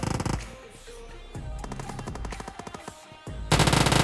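Rapid automatic gunfire crackles from a fight in the video game PUBG Mobile, several bursts with brief pauses between them and a loud close volley at the end.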